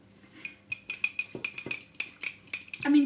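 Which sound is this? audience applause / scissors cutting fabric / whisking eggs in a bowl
whisking eggs in a bowl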